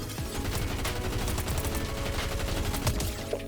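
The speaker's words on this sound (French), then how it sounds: "Genre le snipe, on dirait, il est plus difficile à manier qu'un snipe dans la vraie" Gunfire in the video game Fortnite Chapter 7 cracks in rapid, dense volleys of shots, moderately loud and continuous, with no voices over it.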